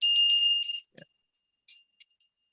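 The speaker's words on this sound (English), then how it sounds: "Ringing the bell." A hand bell rings with a bright, high tone, one long sustained ring followed by several short separate dings that fade quickly, heard over a thin, compressed call line.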